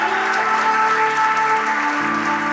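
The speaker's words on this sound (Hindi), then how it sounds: "सो जोरदार तालियां हो जाए फॉर GMS टीम।" An audience claps loudly at a corporate award night in Surat, with dense, steady applause over a sustained musical backdrop that shifts tone near the end.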